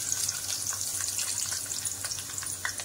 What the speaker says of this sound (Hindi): अब सबसे पहले प्याज को फ्राई कर लेते हैं